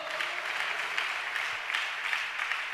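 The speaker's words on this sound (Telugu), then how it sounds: "కొట్టు చప్పట్లో" Congregation clapping at a Telugu Christian sermon, an even wash of many hands clapping continuously at moderate distance, with no one speaking.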